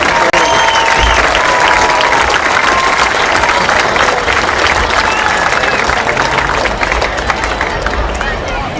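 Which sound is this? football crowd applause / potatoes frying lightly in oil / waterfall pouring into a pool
football crowd applause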